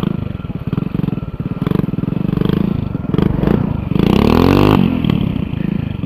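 Motorcycle engine revving and surging during wheelie practice on a loose dirt trail at night, loud and close with rising throttle bursts and some clattering, while people shout briefly in the background.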